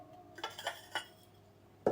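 Ceramic Thérèse plates being handled, giving a few light clinks and knocks close by, then one sharper clatter at the end, with no talking.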